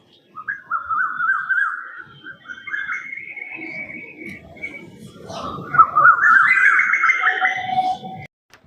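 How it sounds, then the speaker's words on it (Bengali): An Asian koel calls in a rooftop vegetable garden during the rainy season, rising repeated whistled notes in two bursts, fairly close, with faint background noise and no talk. "কোকিলের আওয়াজটা এত সুন্দর কি বলবো বন্ধুরা"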